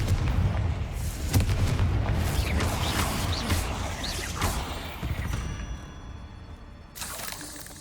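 Blasting-curse explosions rumble in Hogwarts Legacy, played on PC, with dense low booms, crackling debris and magical whooshes rolling almost continuously through combat, loud and close, easing slightly toward the end before another burst.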